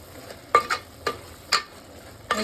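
Ladle stirring cooked tomatoes in a pot for palak sprouts dal: five distinct scraping strokes at irregular intervals, close and moderately loud over a quiet background.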